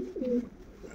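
Pigeons coo in a flight loft, a single low rolling coo rising and fading over about a second, close and fairly soft against a quiet background.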